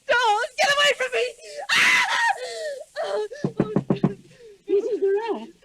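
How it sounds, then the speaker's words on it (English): A woman in a radio drama screams out of a nightmare, a loud, shrill burst that cuts through other voices. Dramatic speech, a few sharp knocks and anxious moaning surround it. "Why were you screaming?"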